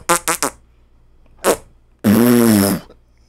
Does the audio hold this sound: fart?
yes